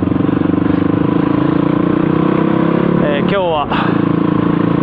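A motorcycle engine drones steadily while riding on a camping tour with luggage strapped on the back. It is close and constant, with a brief dip and a clattering shift near the end, and someone talks over it throughout.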